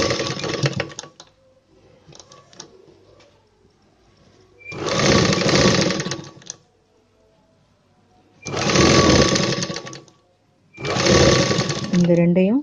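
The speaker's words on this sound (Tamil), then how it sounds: "ஆம் ஹோல் கிட்ட ஒரு ரஃப் தையல் ஓட்டிக்கோங்க." Electric sewing machine running a rough stitch near the armhole of a blouse, in three loud steady whirring runs of a few seconds each, separated by quiet gaps, with someone speaking at the start.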